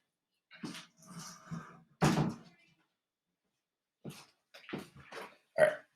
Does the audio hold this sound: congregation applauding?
no